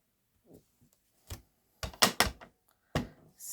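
A rubber stamp is pressed down several times on a surface: soft, sharp taps and thunks, a few in quick succession, close and fairly quiet, with no talking.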